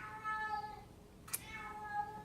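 A house cat meows in drawn-out, wavering tones, a couple of cries close by and fairly quiet, separated by a brief sharp click or thud in the middle.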